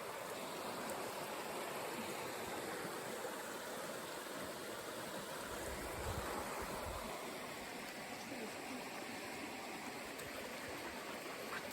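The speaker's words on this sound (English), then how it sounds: "Here it's fairly shallow, and as you can see, there's a bit of almost a fall right there." Shallow creek water running steadily over a small natural drop, a continuous broadband rush and babble heard close by and alone for the whole stretch, with no voices.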